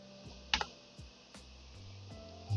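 Computer keyboard typing while logging in to a domain, a few sparse soft key clicks with one sharper tap, close and quiet over a low background hum.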